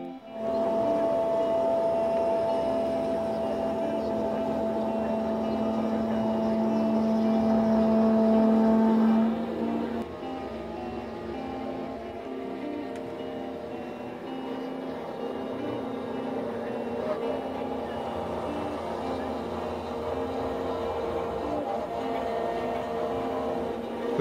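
A CNC router with a 1/8 inch cutter cuts pieces of pine shelving, giving a steady droning whine with a tonal hum that shifts partway through and then settles into a lower, rougher run, with no talking.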